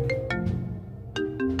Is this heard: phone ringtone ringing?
yes